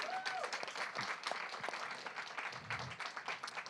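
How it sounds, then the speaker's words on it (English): Applause from the audience at a regional poetry recitation competition, a dense steady wash of clapping that carries through without a break. "let's give that whole community that's standing behind these folks a round of applause as well"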